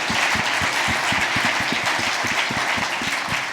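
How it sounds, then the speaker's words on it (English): Sustained audience applause fills the room at a closing awards ceremony, dense and steady clapping from a large crowd throughout with no talking. "a huge round of applause for his leadership"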